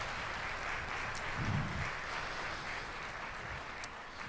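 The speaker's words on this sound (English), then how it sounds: "if we could have a round of applause for those students in this ensemble" Fairly quiet, diffuse audience applause for university symphonic band students in a concert hall, a steady wash of clapping heard from a distance.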